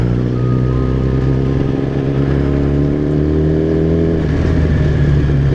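Engine of a vehicle being ridden along a road, a loud continuous droning hum close by with subtle pitch shifts as the throttle varies.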